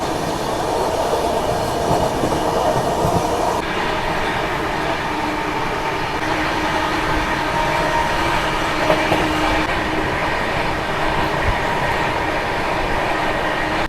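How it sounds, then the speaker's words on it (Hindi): The Gyaneshwari Express rolls slowly through Borkhedi railway station in India, a loud, continuous rumble of wheels and carriages with faint clickety-clack over the rails and no pauses throughout. "अभी हम लोगों की ट्रेन स्किप मार रही है धीरे धीरे बोरखेड़ी रेलवे स्टेशन"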